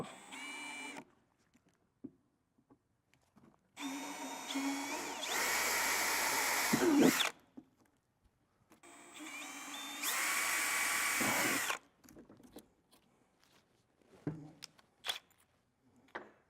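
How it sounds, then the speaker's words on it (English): A power drill with an 11/64 bit whines through two separate bursts of a few seconds each, drilling small holes for a Harley-Davidson audio kit, with quiet handling noises before, between and after. "Drill the 2 smaller holes."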